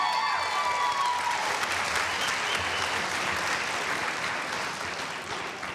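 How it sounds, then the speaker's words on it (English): A large graduation crowd at the MCC 2015 ceremony breaks into a thick, continuous wash of applause that stays steady and full, tapering a little at the very end. "you need to give the foundation an extra round of applause"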